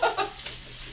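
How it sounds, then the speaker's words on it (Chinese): Pork belly pan-frying until golden gives a short burst of sizzling and spitting fat, close and fairly loud, with a faint clink near the start. "先把它表面煎的金黄，把它的肉汁锁在什么肉里面"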